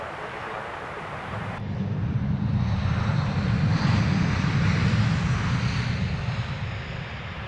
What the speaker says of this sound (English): Another DHL freighter movement.